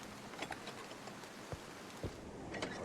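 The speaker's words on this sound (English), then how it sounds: "I can't deal with that rain." Steady rain in a pirate-ship adventure video game, a constant hiss of patter and drips with scattered sharper ticks and a few louder thuds, fairly quiet overall with no talking.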